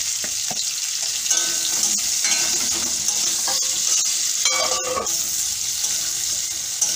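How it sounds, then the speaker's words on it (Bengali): Carrots and beans fry lightly in a pan for vegetable khichuri, a constant bright sizzle with occasional stirring clatter and scrapes; close and loud, with no talking. "এবার আমি গাজর আর বিনসটা একটু হালকা করে ভাজবো"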